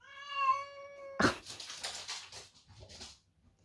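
A pet cat in her litter box lets out one long, clear meow, then scratches and shuffles in the litter with several rustling bursts, recorded close up indoors.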